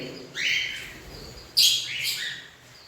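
Two bright bursts of high chirping from birds feeding their chicks, close by, with a few quieter tweets between them.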